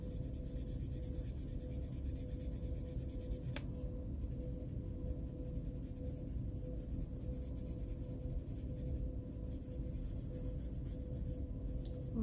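Copic alcohol markers color and blend on paper for a birthday coloring project, a steady soft scratchy rubbing of felt tips that continues close and alone throughout.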